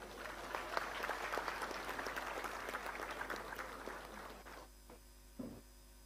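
A seated crowd at a MHADA Konkan Board housing lottery draw claps steadily to welcome the Deputy Chief Minister, the applause dense and sustained before thinning out to scattered claps near the end.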